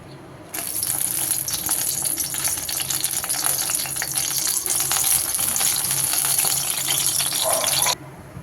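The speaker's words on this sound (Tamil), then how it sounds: "அதே எண்ணெயிலே வந்து இப்போ நம்ம மிளகாவை வறுத்துக்கலாம்" Red chilies frying in hot oil after urad dal, a loud dense crackling sizzle that starts abruptly, holds steady for several seconds, then cuts off.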